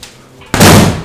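A single loud gunshot fired in the video game Fortnite, a sharp burst that hits suddenly midway and rings out briefly before fading.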